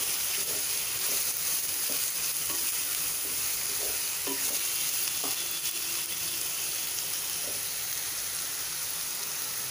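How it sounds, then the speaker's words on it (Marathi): Sliced onions sizzling steadily as they fry in a pan on medium heat for Maharashtrian masale bhat, with a constant loud hiss broken by occasional soft scrapes and clinks of stirring. "म्हणजे आपला कांदा छान सोनेरी रंग येईपर्यंत परतून घ्यायचा आहे"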